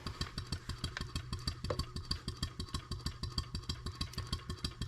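A Stuart 7A steam engine runs on air at about 190 RPM, giving an even, rapid chuffing beat with mechanical clatter, steady and fairly close, with no talk over it.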